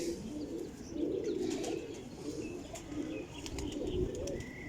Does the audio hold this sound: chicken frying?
no